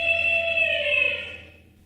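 Recorded elephant trumpet played back by a Dash toy robot, one bright sustained blast that fades out over under two seconds, with nothing else around it.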